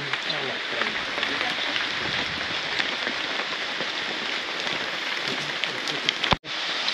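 Steady light rain pattering on leaves and surfaces in the Amazon jungle of Peru, a dense continuous hiss with scattered drops, close and even throughout.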